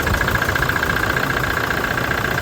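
A freshly rebuilt car engine idling steadily just after start-up, a smooth even hum with a faint high whine, close and alone.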